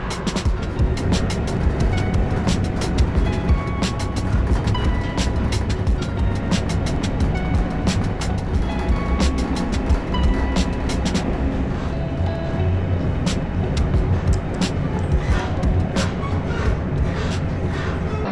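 A train pulls into a Berlin station, a loud, steady rumble of wheels and carriages with rhythmic clicking and rattling that fills the whole stretch, with no talk over it.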